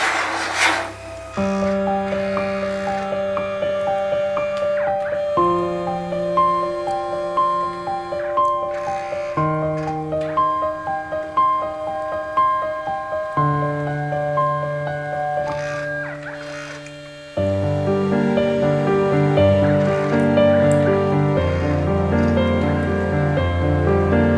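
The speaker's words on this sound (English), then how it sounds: "So this printer prints in several passes." A photo printer printing in several colour passes gives off steady whining motor tones that shift pitch in distinct stages. The hum runs continuously with no talking.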